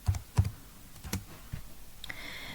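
Keyboard typing while writing a SQL Server query, a handful of distinct close key presses spaced irregularly, with a faint higher tone entering near the end and no speech.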